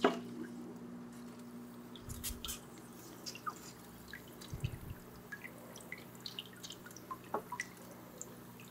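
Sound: water sprinkling and dripping from DIY hydroponic tower

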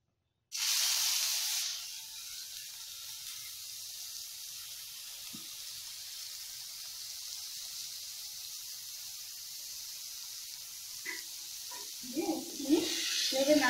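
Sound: papaya pieces sizzling in hot oil in a wok

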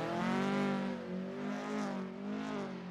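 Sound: racing car's Japanese-built engine revving

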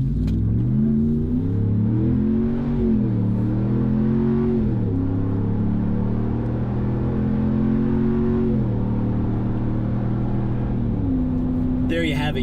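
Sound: pickup truck exhaust at wide open throttle

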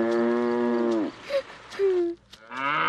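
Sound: cows mooing

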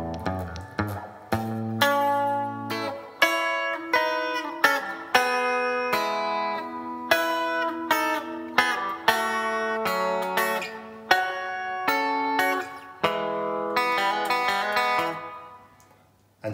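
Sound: guitar played slowly

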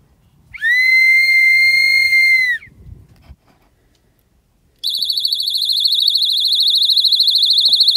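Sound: whistle blown for self-defense test

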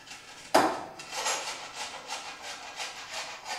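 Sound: grating ginger

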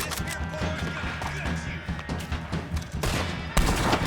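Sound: gunfire in the Red Dead Online video game

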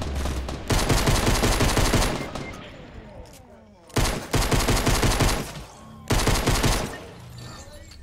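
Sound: assault rifle gunfire in the video game Fortnite

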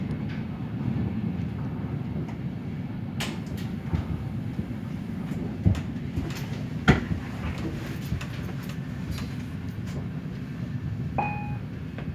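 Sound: IC 23 intercity passenger train running from Kempele to Oulu

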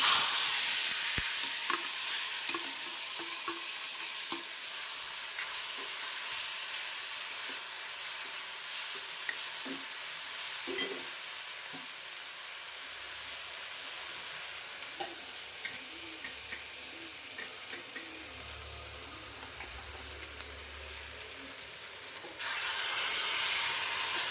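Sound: prawns added to frying garlic, sizzling

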